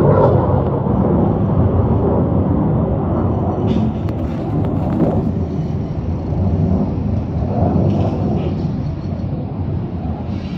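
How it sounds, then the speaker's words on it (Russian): An airplane flies over Vladivostok, a steady low rumbling drone heard from a height above the city, with faint wind and brief voices mixed in. "О, самолетик летит."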